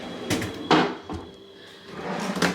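A drawer in the kitchenette of a Copper Creek Deluxe Studio hotel room at Disney's Wilderness Lodge: several sharp sliding clunks and knocks, close and distinct, separated by short quiet gaps.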